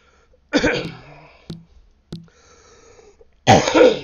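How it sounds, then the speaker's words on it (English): Close, loud coughing from a person at a microphone, a harsh bout at the start and another at the end, with two brief clicks or throat sounds in between. "I won't be editing that cough out of there"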